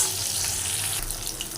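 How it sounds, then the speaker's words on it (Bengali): Pieces of rohu and catla fish frying in hot oil, giving a steady, close, hissing sizzle with faint crackles and no talk. "মাছগুলো খুব সুন্দর লাল লাল করে ভেজে নিচ্ছি আগে।"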